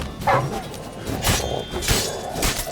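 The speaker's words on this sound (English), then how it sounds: "And those wild dogs are really strong." Wild dogs in The Witcher 3: Wild Hunt bark and yelp in sharp bursts amid combat thuds and clatter, several loud hits spaced across a busy fight.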